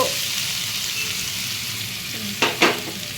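Ginger and garlic sizzle steadily in a hot pan, with a couple of sharp scraping stir strokes near the end over the continuous frying hiss.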